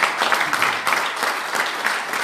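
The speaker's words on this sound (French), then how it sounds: "Je vous prie de bien l'accueillir en l'applaudissant très fort." Dense, lively applause comes from an audience welcoming a speaker at a public talk, with continuous clapping throughout and no gaps.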